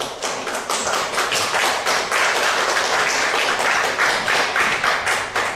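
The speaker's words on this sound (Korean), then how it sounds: "현장에 계신 여러분, 또 온라인으로 예배드리신 여러분 모두 다 따뜻한 박수로 환영해 주시기 바라겠습니다" A church congregation applauding warmly to welcome a missionary, a loud, dense, sustained wash of many hands clapping throughout.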